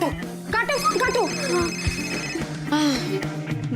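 A telephone ringtone rings in a family sitcom scene, a steady tone running under loud, overlapping voices of people talking in the room.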